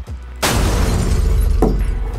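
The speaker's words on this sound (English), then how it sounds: "my flashlight breaks windows" A flashlight smashes a car window, a loud sudden crash of shattering glass followed by sustained crunching and tinkling of falling fragments, with a second smaller impact midway.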